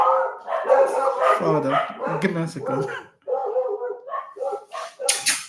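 A puppy barks and yips repeatedly at close range, high-pitched and excited, mixed with a person speaking over it at home.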